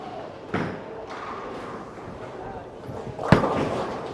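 A bowling ball strikes the pins with a sharp crack late in the clip, after a steady rolling rumble and an earlier thud, set against the hollow ambience of a bowling alley.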